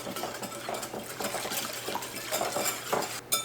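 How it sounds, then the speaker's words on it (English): Whisk rattling against a mixing bowl while gluten-free sourdough ingredients are stirred together, a quick steady run of light clinks and scrapes, close and fairly quiet. "Then we're going to whisk it all together"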